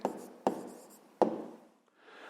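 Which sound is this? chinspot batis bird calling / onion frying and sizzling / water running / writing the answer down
writing the answer down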